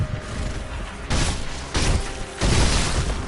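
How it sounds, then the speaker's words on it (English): Sekiro's firecracker prosthetic tool goes off in three crackling bursts, each a loud sharp popping burst spaced about a second apart over a constant background of game noise. "Firecrackers."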